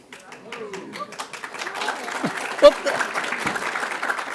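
At a conservative policy summit, someone speaks briefly before the audience breaks into scattered clapping that swells into moderate applause, with one sharp close clap standing out.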